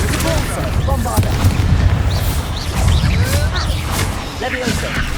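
Booming Bombarda explosion spells in the video game Hogwarts Legacy, with repeated heavy blasts rumbling over a dense bed of game music and effects throughout.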